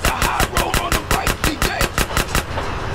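Automatic gunfire in GTA San Andreas during a motorbike chase, a fast rhythmic burst of loud, close shots about every fifth of a second, with an engine droning underneath and no talking.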